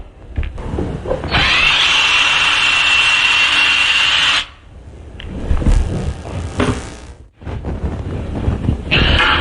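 A power drill bores a pilot hole into wood in steady, loud bursts, stopping and starting a few times close up.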